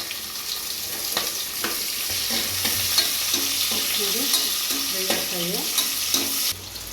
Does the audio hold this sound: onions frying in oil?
yes